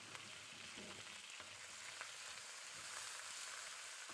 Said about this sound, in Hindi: अब मैं इसको थोड़ी देर के लिए फ्राई करूँगी यहाँ तक कि जो है चिकन का कलर चेंज होना शुरू हो जाए